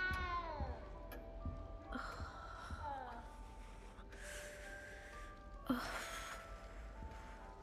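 A cat meows in the Hogwarts Legacy video game, several short rising mews scattered across the stretch alongside game ambience and faint character voices.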